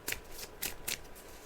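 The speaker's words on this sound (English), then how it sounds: "I'm just shuffling the cards now, Roisin, as you can hear" Tarot cards shuffled by hand, three or four quick riffling bursts in close succession, near and fairly soft, with no talking.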